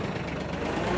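A TYM F36H compact hydrostatic tractor engine runs steadily close by, a low continuous idling drone with no voices over it.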